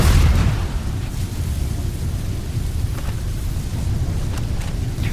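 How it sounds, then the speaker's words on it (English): A landmine in the video game Starfield detonates with a heavy rumbling boom that trails off into a long, dense roar. "Freaking landmines everywhere."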